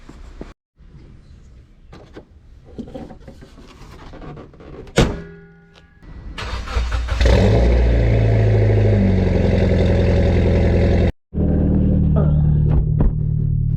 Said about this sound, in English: Can't wait to take it for a test drive.